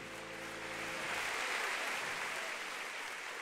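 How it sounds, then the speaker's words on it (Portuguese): A church congregation claps in sustained applause during a worship service, steady and moderately distant, building slightly and holding without any talking over it. "E pra Jesus, a sua melhor salva de palmas."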